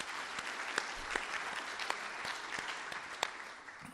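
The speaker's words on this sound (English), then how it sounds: "I think we also need a round of applause for the people that have provided us and served us this morning" A crowd breaks into steady applause at a morning business gathering, a continuous, moderately distant wash of many hands clapping with a few sharper claps standing out.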